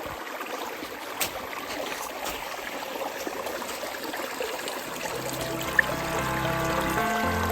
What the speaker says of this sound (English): there's plenty of water still flowing down it